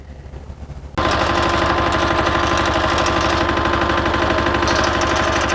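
A greens roller's engine runs on a putting green, starting abruptly after a second of quieter low rumble and then holding a loud, steady, rapidly pulsing mechanical chatter, close to the listener and with no talking over it.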